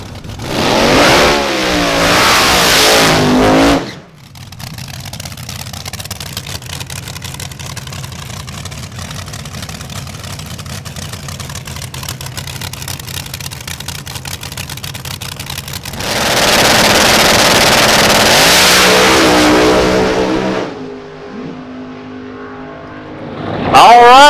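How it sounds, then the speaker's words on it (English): A drag race car does a burnout on new Hoosier tires: a loud roaring rev at the start, a long droning engine run, then another roaring rev before the noise drops off, with voices audible in between. "on the burnout, you could definitely tell the tires are a lot more grippy"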